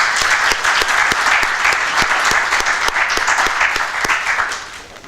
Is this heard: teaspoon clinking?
no